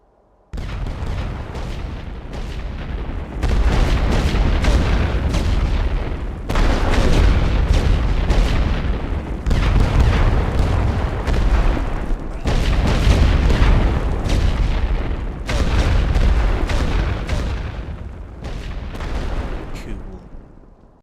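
Artillery fire in the World War One strategy game The Great War: Western Front: repeated deep booming blasts roll in one after another, loud and sustained, with dense rumbling volleys and no pauses beyond brief dips between salvos.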